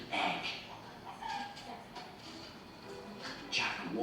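Hen clucking after laying an egg, a run of close, rhythmic clucks and squawks with louder bursts at the start and end.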